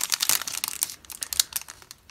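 Plastic bag crinkling and rustling as it is handled and opened during unboxing of a 1954 Ideal Toy Corp S.S. United States assembly model kit; close, busy crackles in quick irregular bursts, with no talk.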